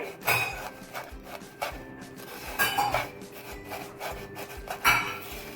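Kunafa vermicelli is mixed with liquid in a bowl, giving a close, repeated rubbing and scraping with soft clinks from the utensil. The strokes come in uneven bursts and no one speaks.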